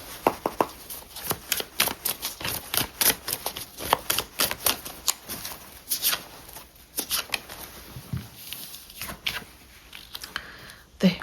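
Tarot cards shuffled and drawn at close range: a dense, continuous run of quick papery flicks, riffles and snaps, with slight pauses between bursts.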